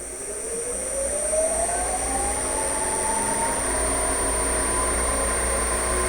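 Wood lathe spinning up to about 600 RPM with a bowl mounted, a loud steady motor whine rising in pitch over the first seconds, then holding a constant hum.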